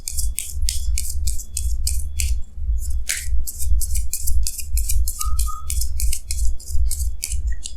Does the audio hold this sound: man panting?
no